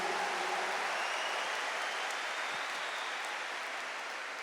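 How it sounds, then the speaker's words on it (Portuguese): Church congregation applauding during a worship service, a sustained, dense wash of many hands clapping at once, steady and fairly loud throughout. "E aplauda nosso Senhor Jesus Cristo"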